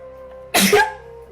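A single sharp sneeze bursts out after a quiet moment, loud and close, with a short breathy tail as it fades.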